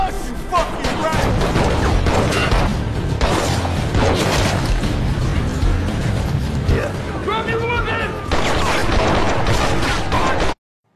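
Explosions and crashing impacts from an action film's escape scene, with a getaway car involved, loud and dense throughout with repeated booms over a continuous din, and voices mixed in.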